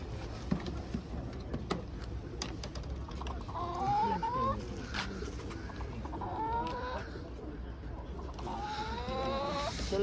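Hens cluck and chatter steadily amid pigeons at an outdoor pigeon market in Wysokie Mazowieckie, Poland, with rising squawks and murmured voices from people in the background.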